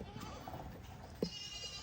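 A single short, faint bleat from a goat or sheep on a farm rises briefly above a quiet, steady background noise, with no talking.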